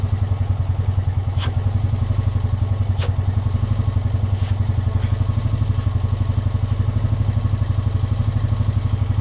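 A 420 engine runs at a steady idle while its intake sucks air against a hand held over it, producing a loud, rapid, even throbbing pulse with a few faint clicks.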